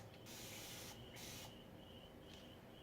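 A spray bottle of water hisses onto a china cabinet in a long continuous burst with a few brief pauses, close and fairly steady.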